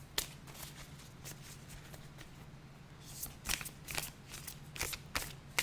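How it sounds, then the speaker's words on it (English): Tarot cards being shuffled and drawn during a psychic reading, with soft riffling and sharp card snaps in irregular bursts, close and fairly quiet, no talking. "let's get a card out"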